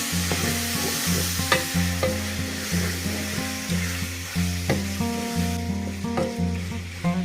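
Chinese stir fry of pork and oyster mushrooms sizzling steadily in a hot pan while a utensil stirs and scrapes it in a repeating rhythm, close up.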